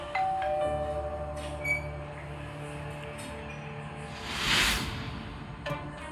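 A doorbell chimes indoors, a ringing tone followed by a brighter, louder ring that rises and fades near the end, with faint household sounds and no speech.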